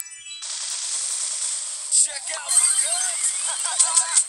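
Gunfire in a multiplayer video game comes as a run of sharp, bright shots and metallic dings, with short bursts near the end and a player talking over them.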